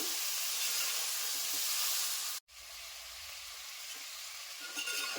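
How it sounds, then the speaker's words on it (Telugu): Cauliflower frying in a hot pan for a biryani, a steady broad sizzle and hiss that cuts out briefly partway through, then resumes with faint stirring. "ముందుగా వేడి నీళ్ళల్లో కడుక్కున్న కాలీఫ్లవర్ని వేసుకుందాం ఒక ఐదు నిమిషాలు ఫ్రై అవనిద్దామండి"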